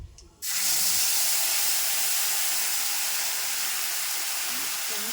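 Chili paste and cumin paste hit a hot pan tempered with nigella seeds for a hilsa fish curry, bursting after a brief quiet into a loud, close, sustained sizzling hiss that holds steady to the end.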